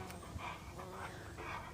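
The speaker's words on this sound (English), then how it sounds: "Do I hear breathing? Oh, God. Is that a dog?" A dog pants softly nearby in a few rhythmic breathy bursts, quiet and close, with no talking.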